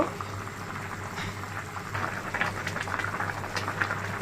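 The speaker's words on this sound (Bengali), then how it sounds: "তরকারিতে ঘন ঘন বলক চলে আসছে" A pot of kalbaush fish curry boils on the stove, thick bubbles popping and gurgling in a steady, soft simmer heard up close with no voices.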